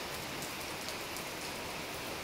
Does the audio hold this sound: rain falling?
yes